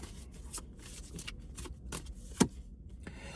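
Tarot cards are shuffled in quick riffling bursts, soft and close, ending with a sharp tap as the deck is squared.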